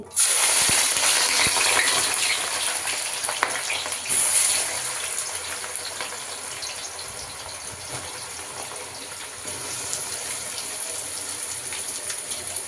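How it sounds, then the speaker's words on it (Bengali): Chopped onions frying in hot oil in a kadai, a loud continuous sizzle that starts abruptly and settles into a steady hiss with a few metallic clinks. "কড়াই মোটামুটি তেল গরম হয়ে গেছে। এবার পেঁয়াজটাকে ভাজা স্টার্ট করব।"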